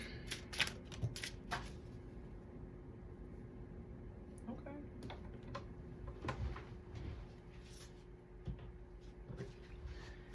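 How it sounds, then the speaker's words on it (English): Soft riffling and flicking of an oracle card deck being shuffled, quiet and close, with faint background noise. "I try to shuffle twice and these same two cards are coming out"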